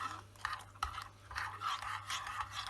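Flour powder is stirred into lukewarm water in a bowl, giving soft scraping and swishing strokes in an uneven rhythm, close and quiet, with a couple of light knocks.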